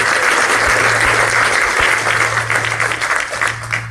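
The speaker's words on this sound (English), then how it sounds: "Let's give him another warm round of applause for that." Audience applause at a community gathering, a dense steady wash of many hands clapping loudly and continuously, tapering slightly toward the end, with no talk over it.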